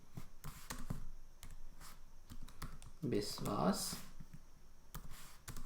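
A name being typed on a computer keyboard, quick uneven keystroke clicks with a short burst of spoken words partway through.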